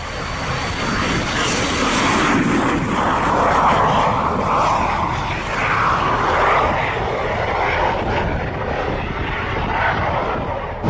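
A loud airplane engine roars continuously nearby, a broad droning rush that swells and eases slightly without pause.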